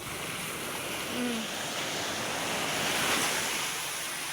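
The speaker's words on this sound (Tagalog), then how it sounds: "Ang laki ng alon." Large ocean waves roll in as a continuous loud roar of surf with wind noise, swelling to a heavier surge toward the end.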